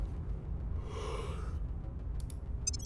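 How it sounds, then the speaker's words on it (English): A single long, breathy yawn, a soft exhalation swelling and fading over about a second, followed by a faint tick or two. "There's a big yawn"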